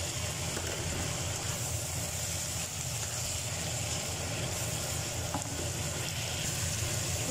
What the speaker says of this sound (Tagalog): add na natin ang mixed vegetables